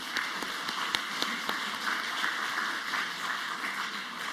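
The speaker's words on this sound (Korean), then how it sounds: "축복하고 격려하는 박수 하도록 합니다." Church congregation at a Sunday worship service in Bucheon gives a soft, fairly distant round of applause, with many hands clapping in a steady patter throughout.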